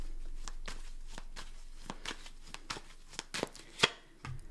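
Tarot cards shuffled by hand in a quick series of crisp riffling bursts and soft slaps, close and fairly quiet, with one sharper snap near the end.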